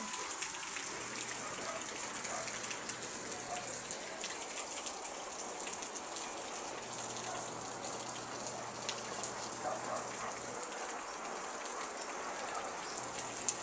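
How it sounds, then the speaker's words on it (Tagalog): Steady heavy rain and wind from the tail of Tropical Storm Enteng hiss across the whole stretch, a dense continuous wash with a faint low rumble underneath and no voices. "may malakas na ulan, hangin"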